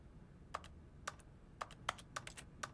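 Keyboard typing inside The Stanley Parable: Ultra Deluxe, heard as a few quick bursts of key clicks spaced through a quiet office scene, close and crisp with no talking.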